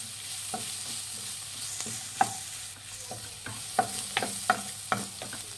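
Turmeric being stirred into a frying mixture in a pan for aloo bonda, with a steady sizzle of hot oil and repeated clicks and scrapes of a spoon against the pan.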